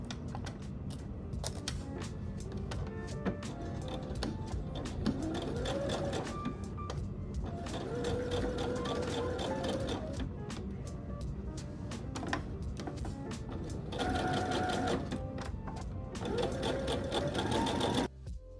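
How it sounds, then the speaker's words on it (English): A sewing machine runs a straight stitch seam on a long-sleeve knit top, steady rapid needle chatter in several bursts with short pauses between, close and clear. "Take to the machine and sew together using a straight stitch"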